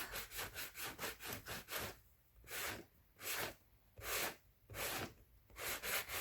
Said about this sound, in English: just take a sanding block